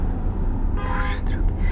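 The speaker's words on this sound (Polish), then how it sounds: "Co to za trąbienie?" A car horn honks briefly in the middle, set against a loud, steady rumble of traffic.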